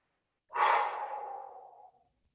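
A single long, loud exhalation during a stretching workout, a breathy rush that starts abruptly and fades out over about a second and a half, heard close and alone.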